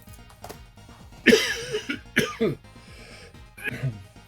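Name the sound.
coughing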